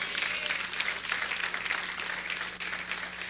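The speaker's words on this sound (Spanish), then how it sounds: "Si le vas a dar un aplauso, dáselo al Rey de Reyes." A church congregation at a Latino service in Miami claps steadily, heard at moderate distance and fairly soft, with a faint constant hum underneath.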